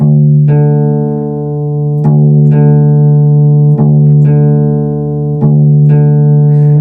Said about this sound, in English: I dropped it down to a point where both of the strings sound the same